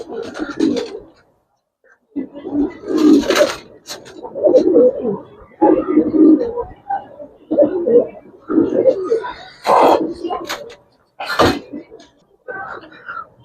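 Male Giribaz pigeons coo in deep, repeated rolling bursts, loud and close, separated by short pauses, with someone speaking briefly among the calls.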